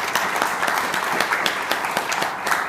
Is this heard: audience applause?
yes